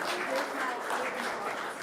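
Applause for a long-serving county fair board member at a public hearing, a steady, dense patter of many hands clapping that holds for the whole moment.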